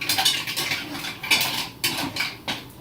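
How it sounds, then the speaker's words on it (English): Mussels being stirred in a pot of butter and red wine, giving irregular clinks and scrapes of shells against metal with several sharper knocks, close and fairly quiet, with no talking. "it's just stirring them inside of the pot"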